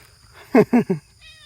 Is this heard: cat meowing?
yes